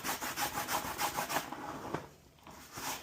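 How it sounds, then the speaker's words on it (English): Brush scrubbing a car interior with a DIY cleaner, close rhythmic back-and-forth strokes that slow and fade midway, then pick up again softly. "Now I'm going to give the whole thing a light scrub."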